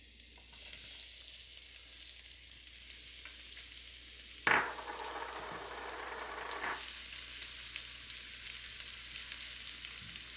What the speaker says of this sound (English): So we put the garlic, 3 tablespoons of chopped up garlic or sliced garlic.